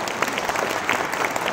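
Audience applause after a talk on bringing Europe closer to its regions, a steady dense patter of many hands clapping at moderate volume for under two seconds, with no voices over it.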